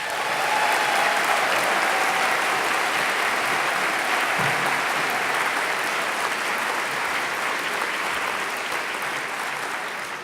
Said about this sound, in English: Please give a round of applause for Bob Berkebile.